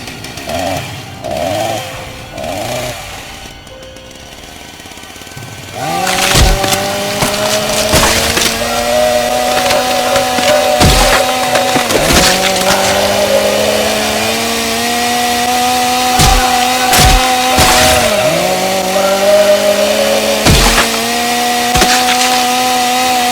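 A video game chainsaw starts up and runs loudly, its engine revving and dipping repeatedly as it bites in, a harsh buzzing whine dominating throughout.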